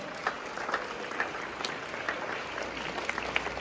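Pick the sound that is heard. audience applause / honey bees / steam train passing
audience applause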